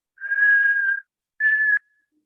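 A whistled imitation of an acute asthmatic wheeze heard through a stethoscope: two steady high-pitched whistles, the first longer, the second shorter after a brief pause, clear and close.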